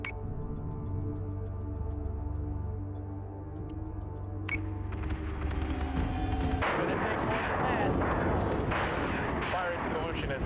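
Ship weapons firing at a target in Battlestar Galactica Deadlock, a sustained humming drone broken by sharp clicks, then a dense barrage of heavy booming fire in the second half, with a voice speaking over it.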